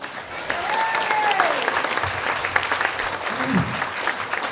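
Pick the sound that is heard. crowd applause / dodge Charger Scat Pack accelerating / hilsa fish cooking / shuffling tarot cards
crowd applause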